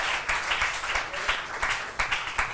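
Church congregation clapping and acclaiming during a French-language sermon, a steady wash of applause with periodic sharper claps, moderately loud and continuous throughout.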